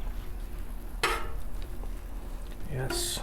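Butter hits a hot 36-inch Blackstone griddle with a sudden burst of sizzle, then a low frying hiss; another sharp sizzle swells near the end, close by and brief.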